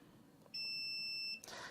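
A multimeter's continuity tester on a power distribution board gives one clear, steady electronic beep lasting under a second, close and distinct against a quiet background, followed by a short rustle.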